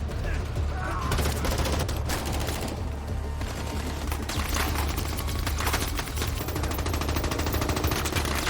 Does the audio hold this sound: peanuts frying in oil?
no